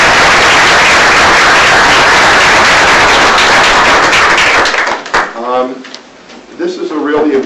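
Loud, dense audience applause at an award ceremony for Black History Month honors, sustained for about five seconds before cutting off as a voice begins speaking.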